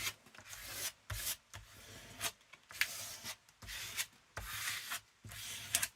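A scraper is rubbed over crafting paper on a journal to smooth it flat. It makes repeated close, dry scraping strokes in an uneven rhythm with short pauses between them, and nobody speaks.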